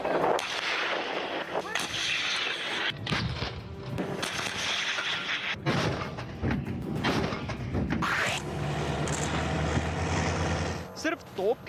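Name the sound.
Russian artillery shelling near the Ukraine border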